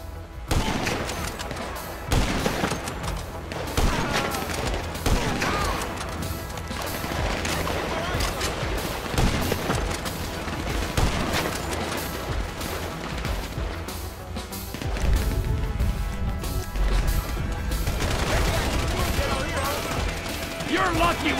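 Heavy, sustained gunfire in Grand Theft Auto V, dense overlapping shots and bursts rattling continuously for a long stretch, loud and close, with voices shouting intermittently through the shooting.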